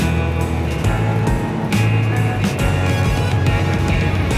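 A bobtailing 2020 Kenworth W900B logging truck with a 565 Cummins engine climbs a small hill in rain, its steady, loud diesel drone and low rumble continuous throughout, with road and rain wash mixed in.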